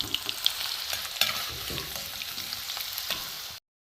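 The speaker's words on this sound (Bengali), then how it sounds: "এখানে চৌকো করে আলু কাটা আছে, একটু ভেজে নেব।" Cubed potatoes fry in oil in a wok with a steady, bright sizzle and crackle, loud and close, while faint scraping and stirring sounds occur occasionally before the sound stops abruptly.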